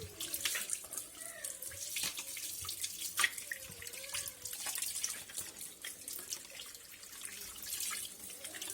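A water meter filter is rinsed under a running tap, so water splashes and gushes steadily over it at close range. Faint, brief handling knocks come through now and then, with no speech.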